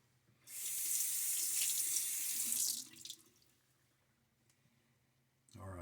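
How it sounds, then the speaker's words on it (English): Cold tap water runs into a bathroom sink before a shave, a close hissing stream for about two seconds, then trickles and drips as it stops, followed by a short clatter at the end. "the tap water's starting to have a little bit of chill to it"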